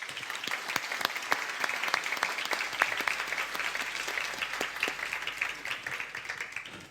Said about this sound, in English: guys, please could you give them a big round of applause